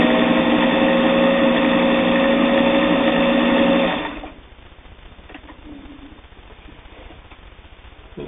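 A Singer 401A sewing machine runs a basting stitch with a loud, steady mechanical whir for about four seconds, then stops, leaving quiet room tone.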